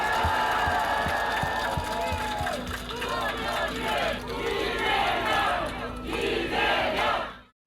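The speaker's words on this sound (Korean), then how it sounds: "송영길 대표님 고생하신다고 박수 한번 부탁드립니다" Studio audience on a Korean political talk show giving loud, sustained applause mixed with cheering and crowd noise, which fades out sharply at the end.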